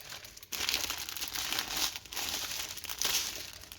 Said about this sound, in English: Don't rip the bag. I'm probably gonna need the bag